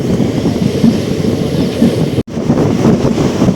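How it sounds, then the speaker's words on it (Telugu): A passenger train rolls along slowly at about 40-50 km/h past Kannamangalam, a steady rumble with faint rhythmic wheel clatter and wind, briefly dropping out for an instant midway before resuming. "కన్నమంగళం దాటాక మన ట్రైన్ అయితే స్లోగా నడుస్తుంది."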